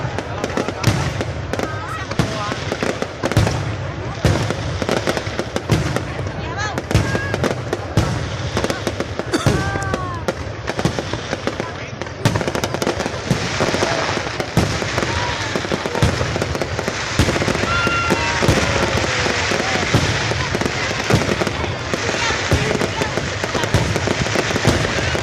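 Fireworks shells launch and burst in dense, continuous volleys of crackling bangs and whistles, loud and sustained throughout, with people talking faintly in the background.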